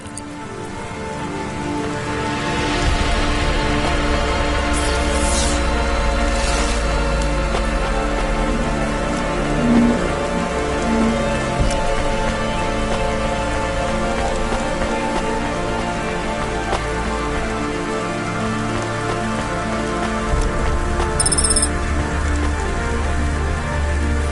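Steady rain pours down in a continuous wash, with low rumbling underneath and a few brief higher tones breaking through, in the video game Cloudpunk.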